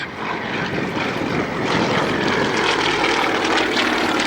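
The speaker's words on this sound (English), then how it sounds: "rolling that aircraft out in a half Cuban 8" A propeller aerobatic plane from the Aerostars display team at Cosford flies a half Cuban 8, its engine a steady, loud droning roar throughout with slight swells in pitch.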